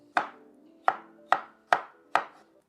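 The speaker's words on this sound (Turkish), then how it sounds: "Hepsini doğradım. Yeşilliklerimi de doğradım." Five sharp knife chops on a cutting board at a slow, even pace, chopping vegetables and greens for pickled peppers, each a crisp thud with a short ring, close and clear.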